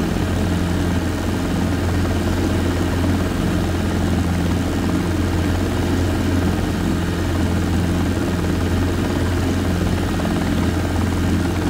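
Robinson R22 helicopter climbing in flight, a loud, steady cabin drone of engine and rotor with a constant low hum running unbroken throughout.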